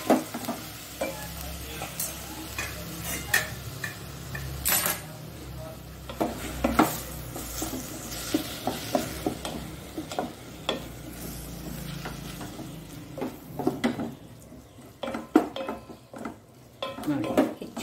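Ivy gourd cooks in a pan with a soft continuous sizzle, broken by frequent metallic scrapes and clinks of a utensil stirring against the pan, close up and fairly quiet.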